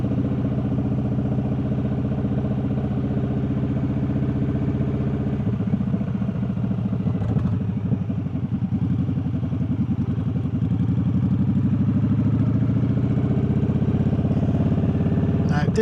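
Several motorcycles idle and rev at an evening bike night, giving a steady, close, low engine rumble that runs the whole time with some clatter over it.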